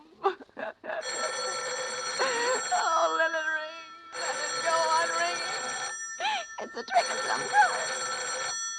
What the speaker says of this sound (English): Even if it goes on ringing all night, I won't answer it.